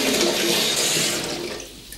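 Hot water running from a tap into a bathtub in a domestic bathroom, a steady broadband gush that holds for most of the moment and then thins out near the end as the flow eases.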